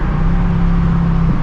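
Ford Mustang GT V8 engine holding a steady drone with a low, even hum while driving with automatic rev matching off, close and continuous inside the car, a brief lift near the end.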